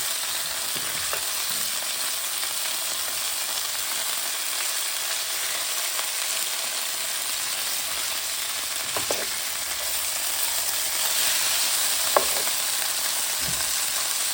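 Oxtails fry in vegetable oil with a steady, even sizzle and crackle, joined by a few faint clinks and scrapes.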